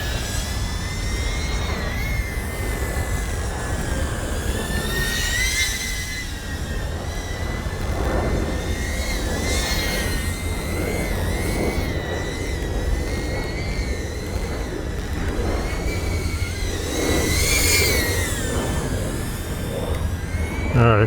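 An iFlight Alpha A85 HD FPV drone on a 4S battery whines through repeated throttle punches, its motor pitch sliding up and down in bursts, loud and close throughout with no talking.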